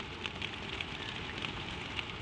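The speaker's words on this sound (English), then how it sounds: "The rain on the tin is the oldest lullaby you know, and you know every verse of it" Rain falls on a tin roof in a steady, dense hiss with scattered sharper drop taps sounding up close, continuous and without voices.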